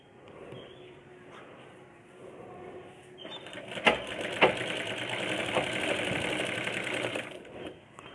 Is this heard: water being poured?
no